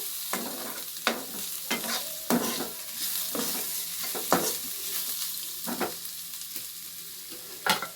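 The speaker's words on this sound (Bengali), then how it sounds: "দেখো পেঁয়াজটা কিন্তু আমার খুব সুন্দর করে ভাজা হয়ে গেছে।" Onions sizzle steadily as they fry in a pan, with repeated sharp scrapes of a spatula stirring them at irregular intervals, close and clear with no talking.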